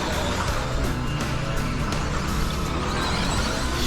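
A Team Associated RC10 B6.4 2wd RC buggy skids over cobblestones on a race track, giving a loud, continuous, rough rushing roar of motor and tyres throughout.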